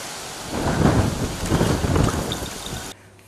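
Heavy monsoon rain pours down with thunder rumbling through a dense, loud wash of rainfall, swelling and rolling before cutting off abruptly near the end.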